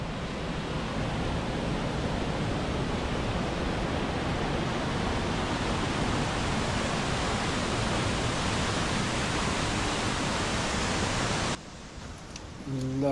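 Small waterfalls in the Lake District rush in a dense, continuous broadband roar that holds steady for most of the stretch, then drops off abruptly near the end.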